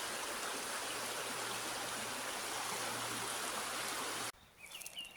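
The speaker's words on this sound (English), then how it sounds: "Found the river. Not too difficult. The sound is gorgeous." A steady, full rush of flowing river water, dense and continuous, that cuts off abruptly near the end, leaving quieter outdoor ambience.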